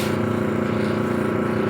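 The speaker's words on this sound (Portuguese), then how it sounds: "E vamos ligar o motor." An automatic gate motor runs steadily after its capacitor is swapped for a 15 microfarad one, giving a continuous close mechanical hum with a strong low drone that stays level throughout and has no talk over it.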